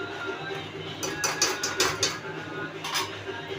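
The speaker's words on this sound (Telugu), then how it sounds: "ఒకసారి మెల్లిగా కలుపుకోండి, అడుగంటుకోకుండా" A ladle scrapes and clinks against a cooking pot as moong dal tomato curry is stirred. It makes a run of sharp metallic taps, close and fairly soft, with a low background hum.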